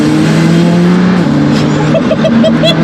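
McLaren MSO Senna under full-throttle acceleration from inside the cabin, a loud engine note climbing steadily with a sharp gear change midway and rapid successive shifts toward the end.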